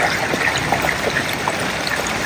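Water flows steadily from a backyard pond being cleared, a continuous close, babbling rush with no talking.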